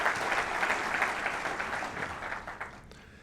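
Audience applause fills a university fall address hall, a dense steady wash of many hands clapping that gradually thins toward the end.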